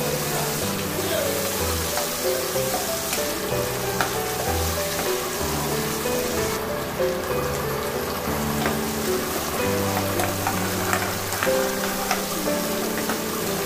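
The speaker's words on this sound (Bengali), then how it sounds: "তেলটা একটু গরম হলে আমি এতে পেঁয়াজগুলো সব দিয়ে দিচ্ছি" Continuous sizzling of onions frying in hot oil, with occasional stirring scrapes and clatter throughout; no one speaks.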